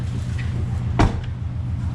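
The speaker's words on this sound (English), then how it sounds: "Door shuts nice." The door of a rebuilt 800 hp Cadillac CTS-V shuts once with a single solid thump in the middle of a steady low hum.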